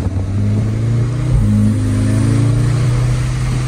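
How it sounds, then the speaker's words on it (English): A 2024 Audi S3 in sport mode accelerates under load, a steady droning engine note with a brief rise and gear change, heard close from inside the car. "So I put the car in sport mode right now."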